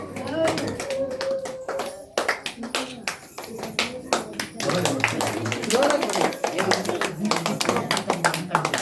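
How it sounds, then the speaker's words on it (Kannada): Children clapping at a government school Independence Day celebration, a dense run of sharp overlapping hand claps that keeps going and builds louder midway, with voices talking underneath. "ಗಿಫ್ಟ್ ಇಸ್ಕೊಳ್ಳೋ ಖುಷಿಯಾಗಿದ್ರೆ ಇವಾಗ ಚಪ್ಪಾಳೆ ಹೊಡಿಬೇಕಲ್ವಾ?"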